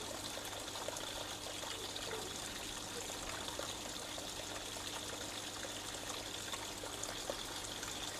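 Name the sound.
water being topped up in a pond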